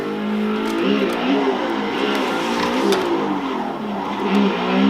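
Car engines in the Assetto Corsa drift game rev hard and warble through rising and falling pitch sweeps, with tires squealing beneath, loud and continuous throughout.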